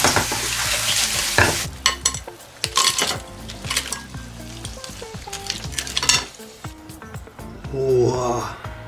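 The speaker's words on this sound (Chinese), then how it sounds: "搅拌均匀。" Razor clams stirred in a hot wok with onion, garlic, soy sauce, oyster sauce, a little sugar and coriander, giving a loud steady sizzle with repeated scraping and clanking of a utensil against the pan, with voices talking over it.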